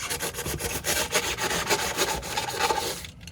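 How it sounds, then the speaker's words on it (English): A blade trims and cuts down a foam block toward a flat surface, producing close, repeated scratchy rasping strokes in a steady back-and-forth rhythm, stopping abruptly at the end. "all I'm doing is kind of trimming over it and then cutting it down until I get to some flat surface"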